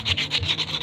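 Fine 1000-grit sandpaper rubs back and forth over a rusty stand fan part in close, rhythmic strokes, about six quick rasping passes with no talking.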